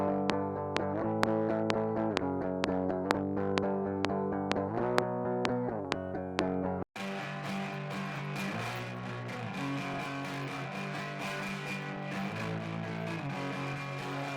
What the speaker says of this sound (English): Hear the difference of the guitar tone with the added effects.